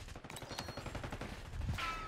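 Rapid gunfire from a Black Ops 6 beta multiplayer match, a dense rattle of overlapping automatic shots at moderate level running through the whole stretch, with a slightly heavier burst near the end.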